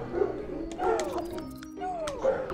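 Dogs yelp and whimper in short, uneven bursts of moderate loudness, with a few sharper barks mixed into a steady background.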